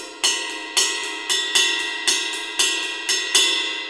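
A drum kit ride cymbal plays an accented pattern in 7, with about eight steady, evenly spaced strikes, each bright and close with a shimmering decay that overlaps the next hit.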